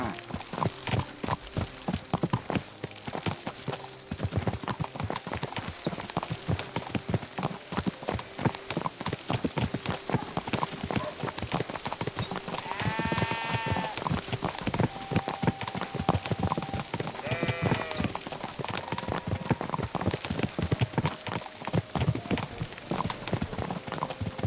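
Horse hooves clip-clop steadily and continuously through a ride in Kingdom Come Deliverance 2, the rhythmic footfalls loud and close over background music, with a brief whinny-like tonal sound midway.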